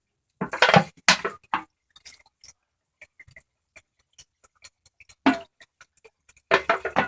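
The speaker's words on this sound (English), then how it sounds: "I just pour that naphtha into my can" Naphtha is poured into a can in a painting workshop, giving short splashing gushes at the start and end with a sparse trickle of faint drips and ticks between them.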